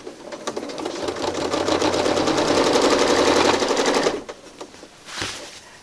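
A sewing machine runs quickly stitching a quilt, a steady loud rapid clatter for about four seconds that then stops, followed by a brief softer burst, close up.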